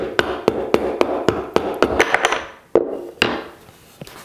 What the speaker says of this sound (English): I'm just going to knock out the spacer.